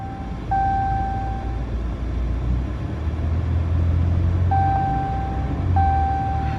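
Ram EcoDiesel pickup engine running on a dyno in manual fifth gear, a steady low rumbling drone held at constant load, with a thin whining tone coming and going above it.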